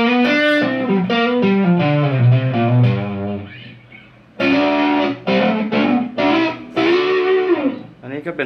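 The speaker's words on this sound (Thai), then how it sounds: "กลายเป็นโอเวอร์ไดรฟ์อ่อนๆดูบ้างนะครับ" An electric guitar with light overdrive from a Line6 M13 effects pedal plays through an amp: sustained notes and chords ringing loud and close, with a short pause partway through.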